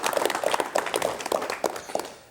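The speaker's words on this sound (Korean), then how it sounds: "여러분 우리 박 선생님을 박수로 맞이해 주시면 대단히 고맙겠습니다." Studio audience on a 1986 Korean television talk show applauds to welcome a traditional woodcraft artist, a dense patter of hand claps with rhythmic louder bursts, close and steady for a couple of seconds.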